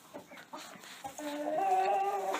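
Hens cluck in a closed winter coop with soft, scattered clucks at first, then a drawn-out, rising hen call carries clearly near the end.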